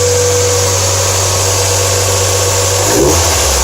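A Mazda Miata fitted with a Cobalt air intake idles close and loud with a low steady grumble, then a quick blip of the throttle near the end.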